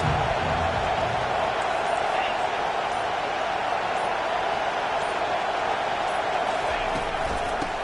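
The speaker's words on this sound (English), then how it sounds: "How about this crowd rattling the rafters and trying to help their defense?" At a TCU vs Miami college football game, a stadium crowd roars loudly and continuously to back its defense, a dense, unbroken wall of cheering noise.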